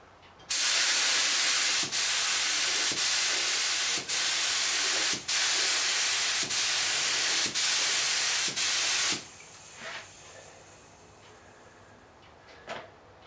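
A spray gun lays paint coats on a repaired caravan panel, giving a loud, continuous close hiss for about eight seconds with brief dips between passes, then quiet with faint clicks.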